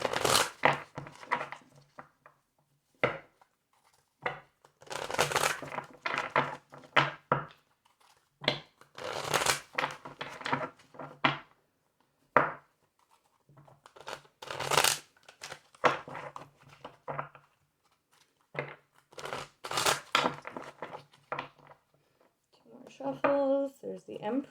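Tarot cards shuffled by hand in irregular bursts of riffling and sliding, close and fairly loud, with a voice talking in between.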